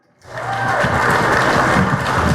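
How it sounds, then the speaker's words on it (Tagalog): Guests at a birthday celebration break into a sudden, loud swell of applause that stays steady and close, a continuous wash of clapping hands. "Palakpak!"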